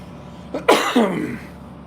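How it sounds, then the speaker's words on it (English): One close, sharp tickly cough, caused by air conditioning, with a raspy double burst, heard alone in a quiet room. "This tickly cough is created by the aircon"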